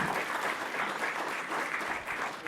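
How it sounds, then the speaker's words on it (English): An audience claps at a planning commission meeting, with dense, sustained applause that stays fairly loud throughout. "I'm going to ask you not to clap in between."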